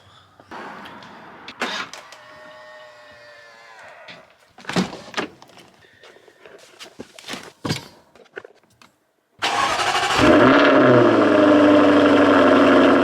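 A Jaguar F-Type heard from inside: door and cabin clicks and clunks, then the engine fires with a sudden loud roar that settles into a steady rumbling idle, close and dominant over the final seconds.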